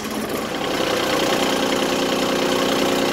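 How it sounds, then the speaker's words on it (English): Mahindra Emax 25 HST compact tractor engine running steadily close by, a loud continuous mechanical drone with a slightly rough, knocking edge and no speech over it. "listen to the engine"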